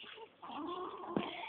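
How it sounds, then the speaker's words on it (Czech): A small flock of backyard hens clucks softly and continuously, with faint layered calls close at hand and no talking. "tak to jsou tatínkovi slepičky"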